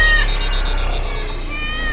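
A cat stuck up high and refusing to come down, in an animated film scene, gives a drawn-out, tonal meow, loud and close over steady background sound.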